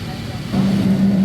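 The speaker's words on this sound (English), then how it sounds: "we are taxiing out for takeoff" Inside a Qatar Airways Airbus A350-900 taxiing for takeoff in Singapore at night, a low cabin rumble carries a steady engine hum that swells and holds.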